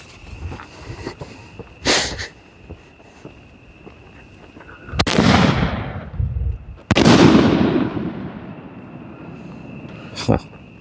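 4-inch canister firework shells bursting overhead, with three loud booming explosions whose long crackling tails drift and fade, plus a fainter pop near the start, while people talk and react nearby.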